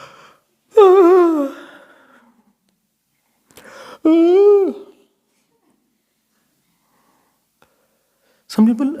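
Long drawn-out yawns, two of them separated by silence and a third beginning at the end, sound close and fairly loud as a voice imitates a yawn during a meditation talk.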